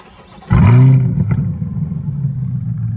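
A Chevrolet C8 Corvette with a Corsa Extreme track exhaust fires up with a loud burst, then drops into a deep, rumbling idle heard close by.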